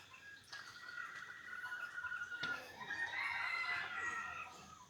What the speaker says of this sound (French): Plein de petits poulets.